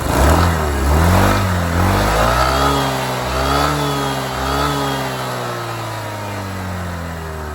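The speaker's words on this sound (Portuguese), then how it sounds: "Vocês ouvirem o ronco." Close Honda ADV 150 scooter engine revving twice, then settling into a steady idle that slowly fades lower.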